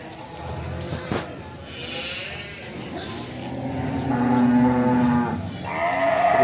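Simmental cattle low and moo at moderate distance at a cattle market, a long drawn-out call rising near the end over a background of barn noise and faint voices.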